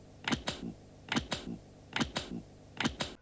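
A 1990s Comet TV commercial ends with a crisp, satisfying closing shot of clicking sounds. Four evenly spaced pairs of sharp clicks are heard, close and clean against quiet.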